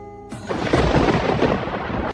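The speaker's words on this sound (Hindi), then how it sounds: "ये बिना मौसम की गरजती हुई बारिश हमें क्या संकेत देती है?" Unseasonal rain arrives with a loud rumble of thunder that breaks in suddenly after a brief quiet tone and rolls on as a broad, sustained roar with no voices over it.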